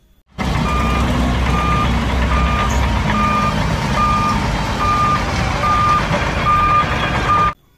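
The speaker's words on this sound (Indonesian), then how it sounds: "Ada truk besar." A big truck backing up, its reversing alarm beeping at a steady pace over the loud rumble of a diesel engine, close by and constant for several seconds.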